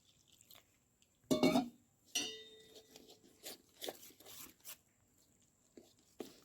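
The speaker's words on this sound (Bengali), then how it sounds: "এটাকে এবারে জল দিয়ে গুলে নেব।" Cornflour being stirred with water in a bowl with a spoon, a few close scraping, clinking strokes with quiet gaps between them in a home kitchen.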